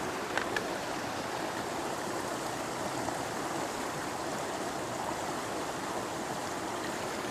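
Water pouring steadily into a beaker, a continuous even rushing splash with no pauses, fairly close, no talk.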